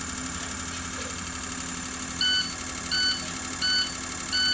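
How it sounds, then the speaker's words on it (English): A bus idles steadily and loudly in a bus barn while its low air pressure alarm sounds four short, evenly spaced beeps over the engine rumble in the second half. "That's the alarm for the low air pressure."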